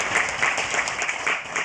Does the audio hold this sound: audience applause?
yes